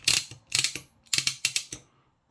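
A KATSU 1/2-inch socket ratchet's quick-release button is pressed repeatedly, giving five or six sharp, close mechanical clicks in quick uneven bursts with nothing else heard.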